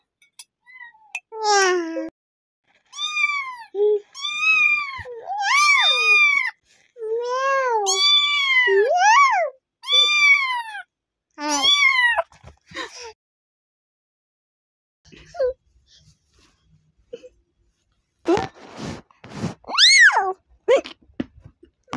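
A young voice imitates a cat, giving a long series of high, wavering meows in quick bursts, with a brief pause before a final cluster of cries.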